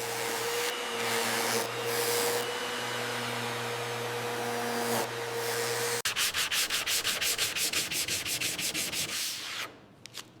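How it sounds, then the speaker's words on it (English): Machine sanding of plywood board surfaces in a factory: a loud, steady abrasive grinding roar fills the first six seconds, then gives way to rapid, regular rhythmic passes before cutting out near the end. "Surfaces are sanded smooth."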